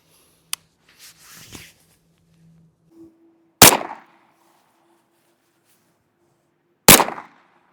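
A 12 gauge shotgun fitted with an enclosed optic fires two loud, sharp blasts a few seconds apart, each with a short echoing tail, after some quiet handling sounds.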